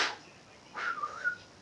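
A person whistles a short, rising-then-falling tune, loud and close, with no talk over it, imitating a character's whistle in a crime drama.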